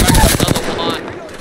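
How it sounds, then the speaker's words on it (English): Rapid gunfire from a sniper rifle in an online battle royale video game, a dense loud burst of shots and impacts that fades after about a second, with a voice faintly mixed in. "I'm shooting with sniper."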